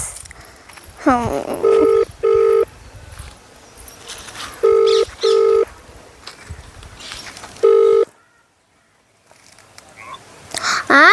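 A phone call is dialled: short repeated electronic tones sound in pairs and singles with gaps between them, clear and close, followed by a brief silence and then faint background noise.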